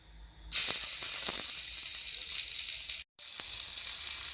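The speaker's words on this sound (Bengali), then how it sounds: "তেল ভালো মতো গরম হয়ে গেছে। এখন আমি মৌরলা মাছের কলা পাতুরির জন্য তৈরি করা কলা পাতার পার্সেল দিয়ে দিচ্ছি।" Banana leaf parcels of mourala fish dropped into hot oil burst into a loud, steady sizzle after a quiet start, with a brief cut near the end before the frying hiss resumes.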